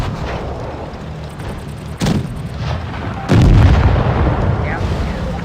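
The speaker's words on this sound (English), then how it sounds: "They do have one shot, which is the Cromwell. And he takes a shot from behind." A Cromwell tank in a tank video game fires its gun, producing two heavy booms a second apart over a steady rumbling battle background, with a voice faintly present.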